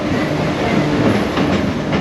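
Expedition Everest roller coaster train at Disney World running along its track, a steady loud rattling roar with rhythmic clacking of wheels over rail joints throughout, no voices.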